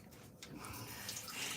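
A sink tap runs steadily in a home kitchen, a soft continuous water stream close by with no talking over it.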